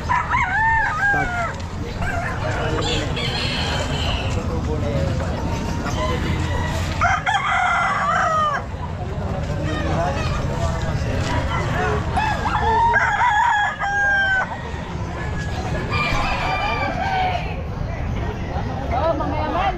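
A stag gamecock crows repeatedly at a pet market in Calumpit. Other fowl cluck, a dog barks, and people talk nearby in a busy market hubbub.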